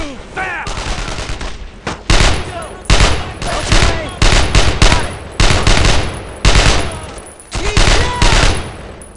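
Loud bursts of rifle and machine-gun fire rattle in close, repeated volleys in Brothers in Arms: Road to Hill 30, set in World War II Carentan, with short pauses between bursts and shouted voices mixed in.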